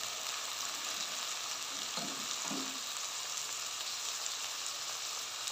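Onions fry in a pan toward golden, giving a steady, even sizzle with a couple of faint stirring scrapes partway through.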